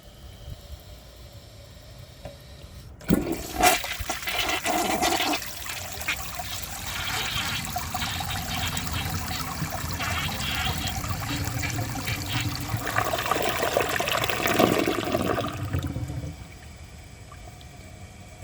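A Mansfield Alto comfort-height toilet, a 2000 model, flushed with the handle held down, a sudden rush of water roaring steadily for about thirteen seconds before draining off into a quieter trickle, recorded close up.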